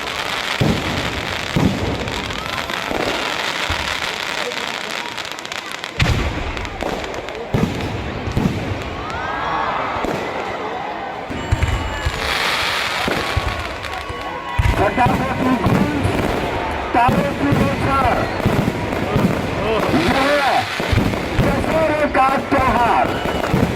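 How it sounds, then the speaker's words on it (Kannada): Fireworks from a Dasara Ramlila festival display in Dandeli pop and crackle in repeated loud bursts over a long stretch, with a narrator's voice running beneath. "ಅಂಕೋಲಾದ ಲಿಂಬುವಾಲೆ ಫೈರ್ ವರ್ಕ್ಸ್ನವರಿಂದ ಆಕರ್ಷಕ ಸಿಡಿಮದ್ದುಗಳ ಪ್ರದರ್ಶನ ನಡೆಯಿತು"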